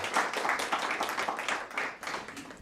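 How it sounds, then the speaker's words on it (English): Light applause from a conference audience, a small group clapping in a steady, moderately quiet patter, heard from a short distance. "I guess she will still hear the applause through the camera"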